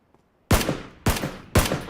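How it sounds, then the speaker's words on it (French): Three loud, sharp gunshots in a video game, each a hard crack with a ringing tail, spaced about half a second apart after a brief quiet start. "On te tire dessus"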